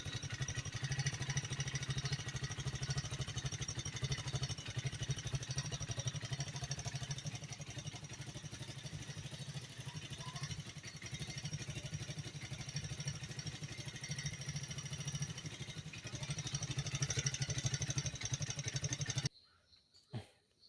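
The small engine of a homemade vehicle idles steadily and fairly loud for a long stretch, then cuts out abruptly near the end, leaving near silence.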